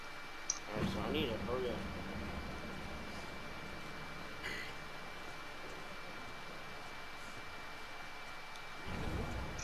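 Thunder in the video game A Way Out rolls as a low, steady rumble beneath a hiss like rain, and swells into a heavier burst at the very end. A voice is briefly heard early on.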